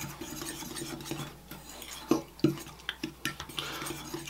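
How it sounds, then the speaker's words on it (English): A fork whisks flour and baking powder in a bowl with scraping, stirring strokes and a few sharper taps against the bowl, close and moderately quiet. "we're just going to whisk these together with a fork real quick"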